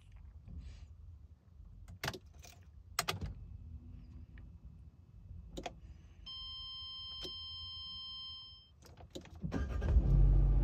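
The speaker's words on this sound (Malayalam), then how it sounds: "നമുക്ക് എന്തായാലും വണ്ടി ഒന്ന് സ്റ്റാർട്ട് ചെയ്യാം." Small car being started, with scattered clicks and thumps from inside the cabin and a steady electronic tone, then the engine turning over and rising into a low rumble at the very end.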